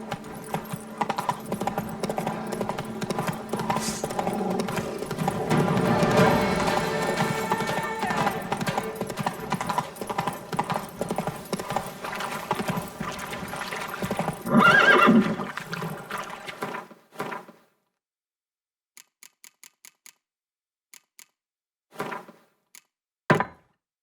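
Roach, the horse in The Witcher 3, gallops with steady rapid clip-clop hoofbeats and a whinny, loud and continuous, then the hooves stop, leaving a few scattered knocks and thuds in near silence.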